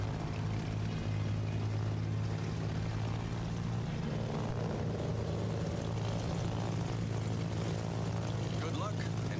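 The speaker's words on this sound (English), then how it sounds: "not too much droning" Constant low droning of aircraft engines in the World of Warships video game, a steady tonal hum sitting underneath with a faint wash of wind and water noise, unbroken for the whole stretch.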